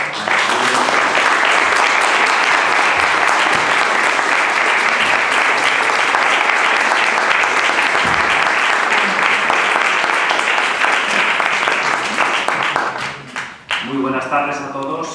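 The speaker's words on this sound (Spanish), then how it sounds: "yo lo único que voy a pedir es un aplauso para don Manuel" A dense, loud wave of audience applause fills the hall at a political talk and holds steady for many seconds before thinning out, with a voice starting to speak at the end.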